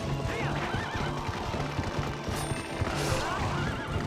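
A horse neighs twice in the video game Twilight Princess, a loud whinny early and another near the end, over steady game music, hoofbeats and combat clatter.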